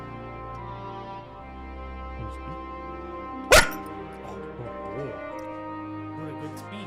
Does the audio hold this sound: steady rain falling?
no